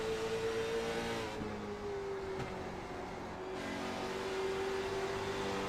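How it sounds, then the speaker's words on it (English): Late model stock cars racing at Kern County accelerate hard back onto the throttle, a steady loud engine drone with a sustained whining tone running through the whole stretch, no voices over it. "you hear how quickly these guys are back into the throttle"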